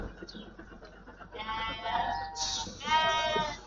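Sheep on a dairy farm in Israel bleat as they are driven up for milking. Several close, loud, wavering bleats come in succession over a quieter shuffling farm background.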